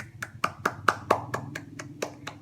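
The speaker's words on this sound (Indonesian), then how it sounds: "Ayo Yesika, semangat Yesika. Nah, kita beri tepuk tangan kepada kelompok 4." A class of students claps for a presenting group, about ten crisp, evenly spaced claps ringing out clearly in a classroom.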